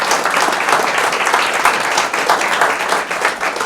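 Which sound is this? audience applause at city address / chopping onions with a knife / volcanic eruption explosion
audience applause at city address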